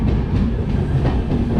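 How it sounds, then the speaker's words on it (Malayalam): The Tirunelveli–Dadar express of Southern Railway rumbles steadily along the Konkan line, a loud, close, continuous roar with a faint rhythmic clatter of wheels over rail joints and no voices. "തിരുനെൽവേലിയിൽ നിന്ന് മധുര വഴി ദാദറിലേക്ക് പോകുന്ന, അതായത് മുംബൈ പോകുന്ന എക്സ്പ്രസ്"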